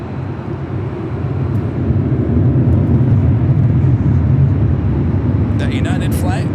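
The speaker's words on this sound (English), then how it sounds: "a 24-year-old A320. Lining up now on 24 left here on the north side of LAX." An Airbus A320 airliner, about 24 years old, lines up on runway 24 Left on the north side of LAX, its engines making a loud, steady roar that builds slightly and holds, with a few faint clicks near the end.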